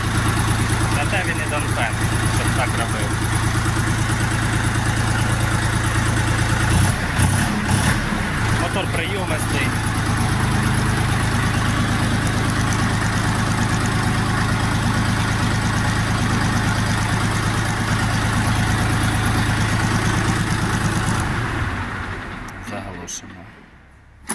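A Dongfeng DF-244 G2 mini tractor engine idles quietly and steadily with a low, even hum throughout, cutting off near the end; a voice is heard talking over it.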